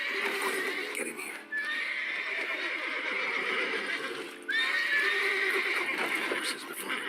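Close, agitated neighing from horses in the video game Witcher 3, sharp whinnies repeating over shuffling hooves, with two abrupt cuts breaking the sound.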